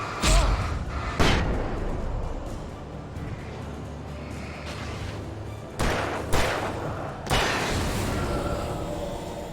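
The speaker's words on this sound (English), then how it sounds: "Flashbang." A flashbang grenade goes off in Alan Wake Remastered, a few loud, sharp blasts with a rushing burst of noise that rings and fades over a steady ambient bed, with no talking.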